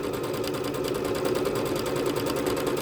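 A Bernette B-77 sewing machine runs steadily, stitching a decorative pattern with a continuous fast whirring hum and rapid needle rhythm, close and moderately loud, with no talk.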